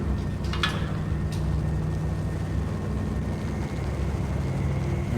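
A helicopter hovering overhead at night in the video game Max Payne, a steady low rumbling drone that fills the whole stretch with no talking.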